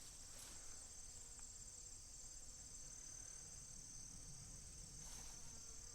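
A thin, steady insect buzz drones on continuously and quietly, with a couple of faint clicks, and no one speaking.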